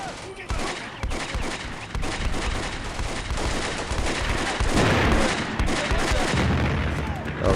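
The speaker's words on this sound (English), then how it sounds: "Okay, so more artillery barrage." Artillery barrage and gunfire in the Combat Mission: Beyond Overlord war game at La Fière, a dense continuous roar of overlapping blasts and rattling shots that swells loudest near the middle and stays intense throughout.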